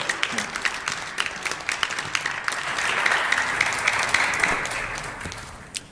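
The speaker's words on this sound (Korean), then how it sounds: "크게 환호하겠습니다." A youth audience at a church youth retreat claps and cheers to welcome a guest professor, starting with scattered sharp claps that swell into a fuller burst of applause and crowd noise before fading to a few final claps.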